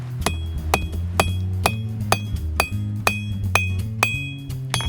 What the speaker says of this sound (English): just hammer it on the end of the anvil